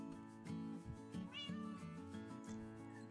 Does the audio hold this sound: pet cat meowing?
yes